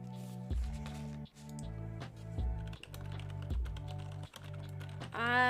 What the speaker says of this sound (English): You might hear me typing